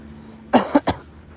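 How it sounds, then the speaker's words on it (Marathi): Three short, close coughs in quick succession from a congested motorcycle rider wearing a helmet, the first two strongest and the third slightly weaker, with no talk around them. "खोकला तर लागलाय."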